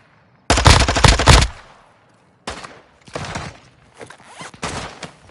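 Loud, close automatic gunfire in Call of Duty Warzone 2.0: a dense second-long burst, a pause, then several more rapid bursts in quick succession.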